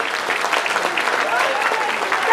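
A large crowd at a BJP election rally in Gorakhpur's Town Hall claps loudly and continuously to welcome candidates, a dense, sustained roar of applause with voices faintly mixed in.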